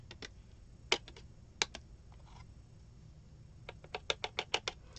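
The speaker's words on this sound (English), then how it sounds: "I'm just tapping off any excess that might be on there." A paper journal card is tapped against a surface to knock off excess embossing powder, heard as close, sharp light taps, a few scattered ones and then a quick run of five or six at the end.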